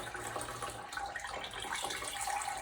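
Alpaca wool being rinsed in a bucket of plain, soap-free water, a soft steady sloshing and trickling that is faint and close.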